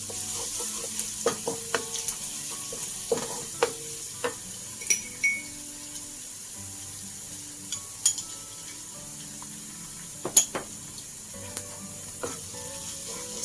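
Chili paste being stir-fried in a pan for fried kway teow flat noodles, a continuous close sizzle with scattered scrapes and sharp metallic clinks of a spatula, no talking.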